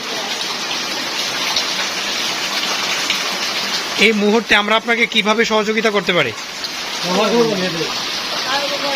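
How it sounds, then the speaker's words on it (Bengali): Rain pours steadily onto a tin roof, a constant wash of patter heard throughout while a voice talks over it partway through. "আপনারা দেখতেছেন বাহিরে বৃষ্টি পড়ছে, বাহিরে বৃষ্টি পড়তেছে।"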